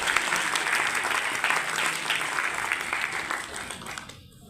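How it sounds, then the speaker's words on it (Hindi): Audience applause welcoming a Union minister at a BJP candidate's public discussion event: a steady, dense burst of clapping from a gathered crowd that holds for several seconds, then cuts off abruptly at the end. "हमारे माननीय मंत्री जी श्री हरदीप सिंह पुरी का जोरदार तालियों से इनका स्वागत करता हूं।"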